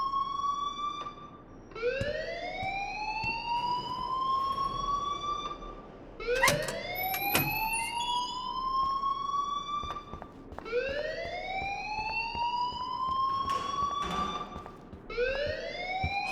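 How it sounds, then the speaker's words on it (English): Rising alarm siren in the Life is Strange video game, a loud wailing tone that sweeps upward and repeats about four times in steady cycles, with no voices over it. "please turn off that alarm since that's your job"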